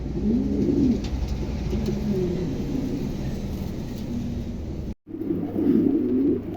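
Pigeons at a bird market coo in repeated low, throaty phrases close by, over a steady background rumble with a brief dropout near the end.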